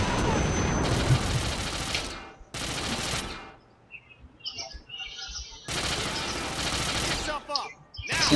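Gunfire in Hitman Absolution: bursts of rapid automatic fire come in long dense stretches, broken by short pauses with scattered debris and faint chirps between volleys.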